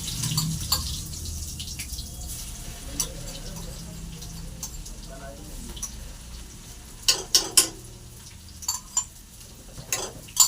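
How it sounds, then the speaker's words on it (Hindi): Garlic and dried red chillies temper in hot oil for a radish dish, giving a soft background sizzle followed by several sharp, close clicks and spatters near the end, with no voices. "अब लगा देते हैं मूली में तड़का। तेल भी गरम हो चुका है।"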